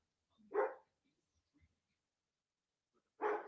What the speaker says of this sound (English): that's just my dog barking at anything